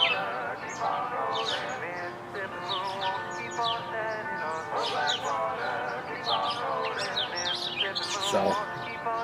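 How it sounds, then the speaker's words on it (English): Several birds chirp and tweet in quick, overlapping bursts nearby, a lively chorus of bright calls with faint background hum. "The birds are having fun next door here."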